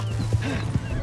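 A horse in the video game Red Dead Redemption 2 lets out a short neigh close by, with a few hoof clops and a steady background hum.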